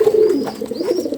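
Pigeons coo in a home loft after their winter rest, a steady low warbling run of calls close by, with a faint higher chirp drifting over it.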